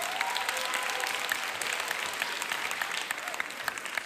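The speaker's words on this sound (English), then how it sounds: "round of applause for them" Crowd applause at a Somali heritage celebration, a steady wash of many hands clapping at even strength, with faint voices mixed in underneath.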